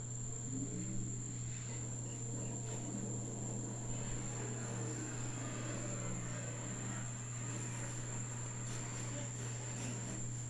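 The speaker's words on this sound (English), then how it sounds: "I wonder how the crickets sound with an echo." Steady cricket chirping forms a continuous high drone, with a constant low hum underneath; no one speaks.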